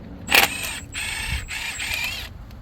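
A 10 mm socket ratchet working thermostat housing bolts on a 5.7 HEMI engine, giving close, rapid metallic ratcheting clicks in several short bursts with brief pauses.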